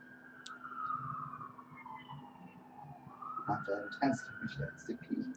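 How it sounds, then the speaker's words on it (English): A fire ambulance siren passes during a live Ducks–Kings NHL game broadcast, its wailing tone gliding down then rising again at moderate distance, partly buried under crowd and commentary noise. "we got a fire ambulance going by"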